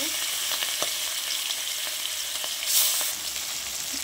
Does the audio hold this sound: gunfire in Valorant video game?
no